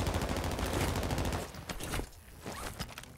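Heavy rapid gunfire in the battle royale shooter Call of Duty Warzone, loud continuous bursts at first, then thinning into scattered shots and quieter distant fire.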